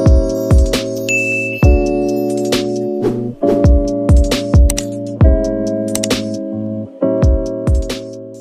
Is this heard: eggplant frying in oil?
no